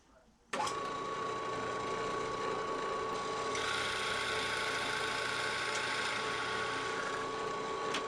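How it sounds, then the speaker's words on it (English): A Forstner bit drills a recess to countersink a magnet, a steady, loud whirring grind that starts abruptly and runs continuously without pause. "find a Forstner bit, and I'm going to countersink the magnet in just like that"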